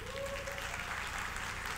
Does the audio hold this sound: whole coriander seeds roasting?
no